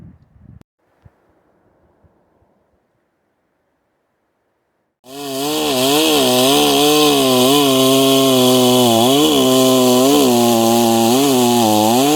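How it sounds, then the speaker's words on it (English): After a few faint knocks and a long quiet, a chainsaw cutting firewood logs roars to life and runs loud and close, its engine pitch rising and falling steadily. "These are the chainsaws we're using."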